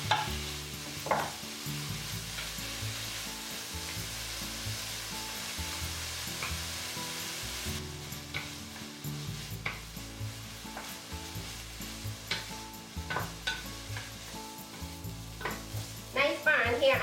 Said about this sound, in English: Let's saute the bacon.